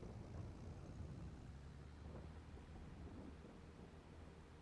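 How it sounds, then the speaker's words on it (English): Low, steady wash of heavy rain in the video game Farming Simulator 22 with a dull rumbling undertone, constant and fairly quiet, no voices. "It is raining pretty hard today."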